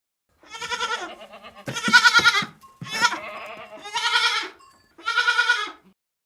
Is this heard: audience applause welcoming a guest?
no